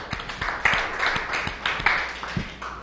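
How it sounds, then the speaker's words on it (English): Classroom applause for a student during a lesson on carbon sources and sinks, a short burst of several people clapping, moderately loud, with sharp hand claps standing out over the rustle of the room. "give her a round of applause"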